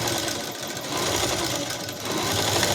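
An electric sewing machine runs steadily while stitching thin piping onto a garment neckline, a continuous fast whirring chatter close up with no talk.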